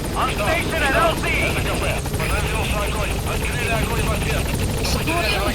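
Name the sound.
support helicopter in video game Metal Gear Solid V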